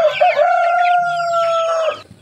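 A young chicken, one of a flock of two- to three-month-old pet birds kept for colds and wheezing treatment, gives a loud, close, sustained crowing call lasting about two seconds, with faint clucking beneath it.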